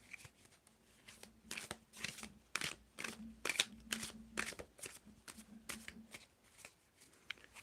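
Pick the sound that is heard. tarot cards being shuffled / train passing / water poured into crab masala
tarot cards being shuffled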